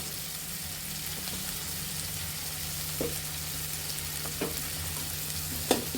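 Black cumin seeds frying in hot oil for a spinach pithali dish, a steady soft sizzle with a low hum beneath and a few faint clicks of a spoon stirring.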